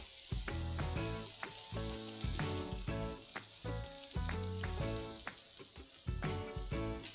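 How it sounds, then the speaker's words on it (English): Chicken reshmi kebabs grilling and basted with a little butter, a steady close crackling sizzle overlaid with a quiet rhythmic musical pattern throughout, no speech. "We've been grilling this for the last 10 minutes. I'm just going to baste this with very little butter."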